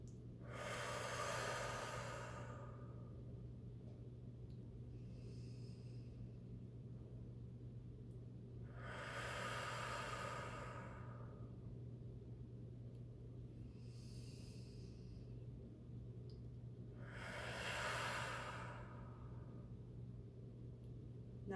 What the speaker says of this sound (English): 3 big breaths. Breathe it in.